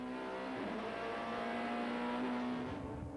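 Touring cars racing at Killarney circuit in 1998, a steady sustained engine drone with a held tone, moderately distant and even, no voices over it.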